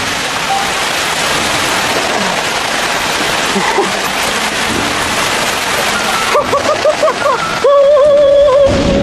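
Rain pours down as a dense, loud, continuous hiss, with voices and music coming in over it toward the end.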